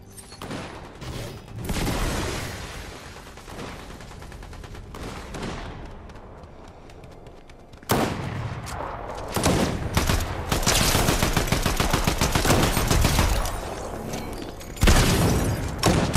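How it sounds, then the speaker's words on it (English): Frenzy shotgun blasts in the Fortnite video game: loud, sharp shots fired in quick bursts with short pauses between volleys, alongside mechanical clicks and booms, and no voices. "Frenzy shotgun"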